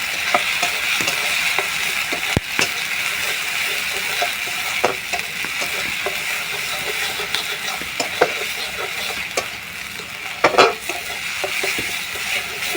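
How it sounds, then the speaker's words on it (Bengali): Ground green chili and mustard paste fries in hot oil with five-spice seeds, a continuous close sizzle broken by irregular scraping knocks of a spatula against the pan, fairly loud, with no speech. "এবার বেটে রাখা কাঁচা লঙ্কা সর্ষে বাটাটা দিয়ে দেবো। এইভাবে কষিয়ে দেবো 1 মিনিট মতো।"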